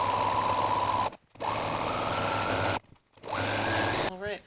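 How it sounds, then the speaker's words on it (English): A sewing machine runs a zigzag stitch on loungewear, close and loud, in three sustained bursts separated by brief stops, the last ending with a short wavering whine. "So we'll start off with the zigzag stitch."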